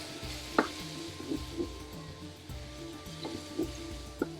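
Kashmiri chilli and tandoori powders sizzle softly in a pan, stirred with a spoon for a lamb rogan josh, a low steady fry broken by several gentle knocks and scrapes.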